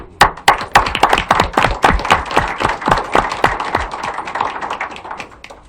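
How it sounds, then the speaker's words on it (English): Audience in a county board meeting room applauds Vietnam-era veterans: a burst of sharp, irregular hand claps from a modest crowd, loud at first and thinning slightly over several seconds, with no talking. "Big applause, please."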